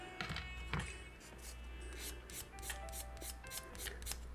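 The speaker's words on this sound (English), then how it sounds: "Just trying to get this at an acceptable level of sanding" Quiet, steady rubbing and rasping strokes repeat in a loose rhythm as a small plastic model kit part is finely sanded, close and faint over a low hum.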